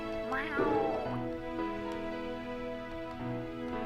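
A cat meows in a video game, one clear rising-and-falling mew near the start over a steady, layered musical background, fairly quiet and close.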